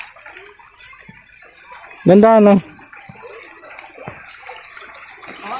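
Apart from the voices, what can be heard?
water flowing in irrigation channel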